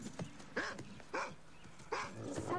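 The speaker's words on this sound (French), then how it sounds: "Ce chien est névrosé." A dog barks three times in short, separate yaps with brief pauses between them, fairly close.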